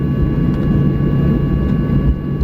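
Steady low engine drone and hum inside a Boeing 737-800 airliner cabin just after landing at Miyazaki Airport, continuous and fairly loud, with no talk.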